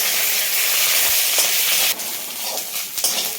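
Chopped ginger, curry leaves and whole garam masala frying in hot oil, a steady close sizzle with a few brief stirring clatters, no voices.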